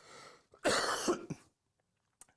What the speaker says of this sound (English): I'm going to have a cough now